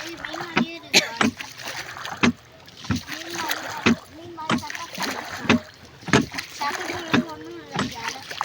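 A boat ride on the water at Yelagiri, with rhythmic paddle strokes and light splashing repeating every second or so under the steady chatter of children and adults.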